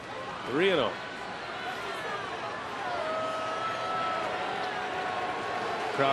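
A baseball stadium crowd murmurs in a low, steady hubbub during a Mets at Brewers game, with a voice talking over the background babble.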